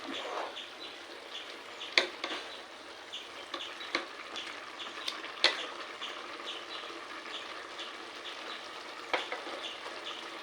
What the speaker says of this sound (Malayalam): ഇത് മൂടിയിട്ടെടുത്തുണ്ട് ഒന്ന് തിളക്കട്ടെ ഇളക്കി കൊടുക്കാം